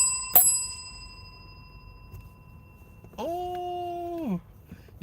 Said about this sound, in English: Oh, your boy got a bell now.